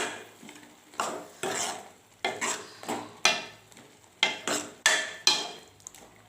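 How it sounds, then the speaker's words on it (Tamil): A spoon stirs gravy in a pan after ground coconut paste is poured in, about a dozen rhythmic scraping strokes with light sizzling, close and steady, with no talking. "இந்த ஸ்டேஜில் நம்ம அரைச்சி வச்சுருக்கிறத எடுத்து அதில் ஊற்றிக்கலாம் ஊற்றிட்டு நல்லா மிக்ஸ் பண்ணி விட்டு"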